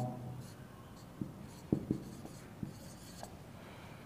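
During a classroom maths lesson, someone writes out an answer in quiet, scratchy strokes with a few sharper taps, faint and close, with no talking over it.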